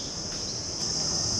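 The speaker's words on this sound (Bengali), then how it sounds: "ওয়াও, ঝিঝি পোকার শব্দ, দারুণ।" Crickets chirp steadily under a bridge near a river, a continuous high insect trill that carries on evenly through the short stretch with no voices.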